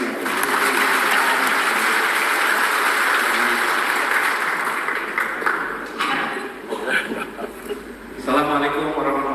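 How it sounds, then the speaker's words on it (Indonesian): Audience applause and cheering for the MC at a volunteer rally for Anies Baswedan in Indonesia, a broad, loud wash of clapping that thins out toward the end as voices and shouts rise over it. "kasih tepuk tangan dulu untuk MC-nya"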